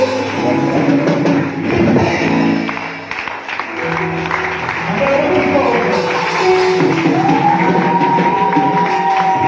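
A church congregation at a Gabonese prayer service erupts in loud shouts, whoops and applause, a sustained crowd roar of acclamation with a brief dip before swelling again.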